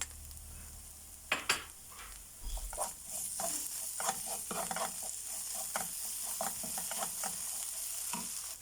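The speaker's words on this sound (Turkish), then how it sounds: "Salçanızın, salçanızın kokusu çıkana kadar bir iki döndürelim şöyle" Tomato paste and sugar are stirred in a hot pan, giving a continuous soft sizzle with scattered scraping and clicking spoon strokes, close and fairly quiet, with no talking.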